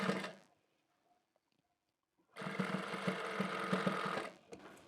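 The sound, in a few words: sewing machine stitching a lace fitting seam on a shirt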